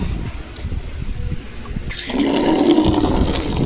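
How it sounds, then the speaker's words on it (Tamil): Water gushes from an opened tap in a home kitchen, starting about halfway through as a steady, fairly loud rush that continues to the end, with no talk over it. "நாங்கள் தண்ணி அதை திறந்து விட்டுட்டோம்."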